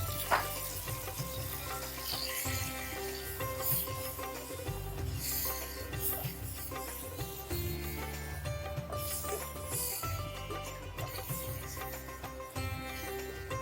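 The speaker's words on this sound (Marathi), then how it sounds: "हे वाटण आपल्याला चांगलं परतून घ्यायचंय" Onion paste with a bay leaf frying in hot oil, a steady sizzle running throughout under music, with no talk.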